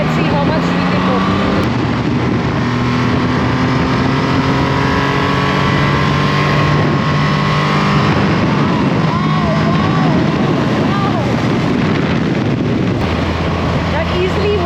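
A Triumph Rocket 3 GT motorcycle, with a huge high-torque engine, pulls hard in first gear, its loud exhaust note rising steadily in pitch as revs climb, close and continuous throughout.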